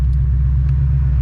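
A car with a Stage 3 clutch and MT-82 manual transmission pulling away, a loud, close, steady low engine rumble without any revving swell.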